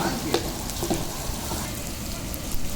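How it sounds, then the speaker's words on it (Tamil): Chopped onions and curry leaves sauté in a pan for chicken Chinthamani, a steady, close sizzle with faint scraping stirs and no talking. "வெங்காயத்தை வந்துட்டு நல்லா வணக்கி விடணும்."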